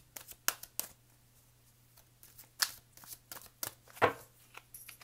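Tarot cards are shuffled by hand in quick, irregular riffles and slaps, close and fairly soft, with short pauses between bursts.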